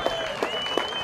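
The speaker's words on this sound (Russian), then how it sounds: "Ваши аплодисменты!" An audience claps in steady applause after a wrestling match, a dense crowd patter heard at a moderate distance with a faint tone running underneath.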